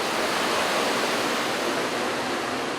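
Chilled air circulates through a cold storage room where beef is dry-aged, a loud, even roar of moving air that stays constant throughout.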